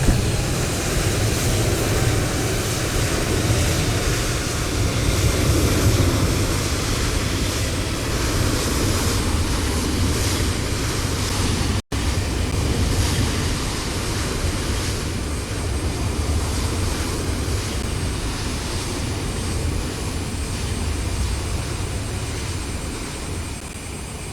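A Cessna Citation C700 business jet in Microsoft Flight Simulator being pushed back at the gate, a constant loud engine whine and rumble running steadily throughout, broken only by one brief dropout midway.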